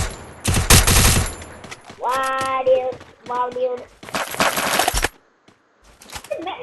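Rapid gunfire bursts ring out in the Free Fire video game, separated by short pauses, with a voice talking in between.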